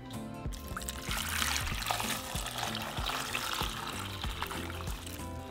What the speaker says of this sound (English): And we're just going to cover them with water.